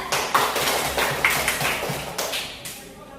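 Applause in a fourth-grade classroom, a short burst of children's clapping with uneven slaps that fades toward the end.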